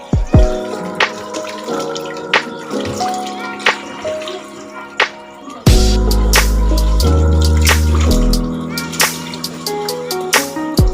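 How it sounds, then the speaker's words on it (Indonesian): Peeled cassava tubers are washed by hand in water, with close splashing, sloshing and dripping in irregular bursts, growing heavier and more vigorous partway through. "Lalu ubinya dicuci agar ubinya bersih."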